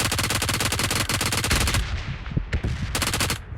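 Rapid automatic bursts from a P90 submachine gun in PUBG Mobile, a long continuous stream of loud shots followed by shorter clipped bursts after a brief pause, with no voices.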